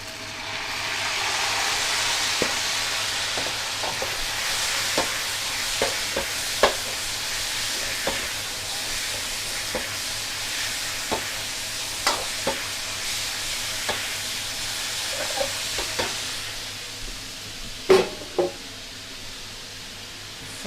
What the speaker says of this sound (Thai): แล้วเนื้อของเราใส่ลงไปนะคะ